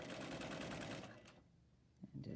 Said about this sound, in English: pull that over, and I'll sew as far as it is together